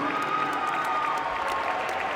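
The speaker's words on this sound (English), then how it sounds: "have a round of applause for both of these warriors" A fight crowd applauding two Muay Thai fighters after a bout, a steady sustained wash of clapping with faint cheers in the hall, moderately distant.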